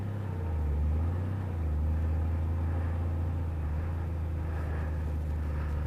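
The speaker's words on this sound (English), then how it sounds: "Bring the idle up. Now see I'm slipping the clutch." A big motorcycle engine idling at slow speed with the clutch slipping gives a steady, deep low rumble, close and constant, that swells slightly and then settles back into an even drone.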